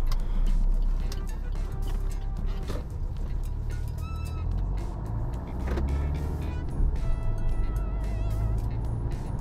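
A diesel car engine running while driving, a continuous low rumbling drone with road noise, steady and fairly close, no speech.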